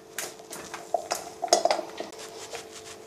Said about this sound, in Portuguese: E a gente vai misturando, vai mexendo até esse chocolate